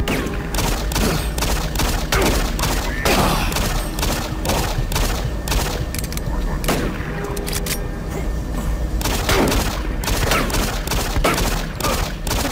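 Shotgun fire in Doom 3 booms repeatedly in quick irregular succession, loud and close, with dense overlapping blasts and thuds filling the whole stretch.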